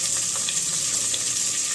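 Onions with curry leaves and a pinch of salt sauté in a hot pan for a goat-head curry, giving a steady, close, unbroken sizzle with no talking.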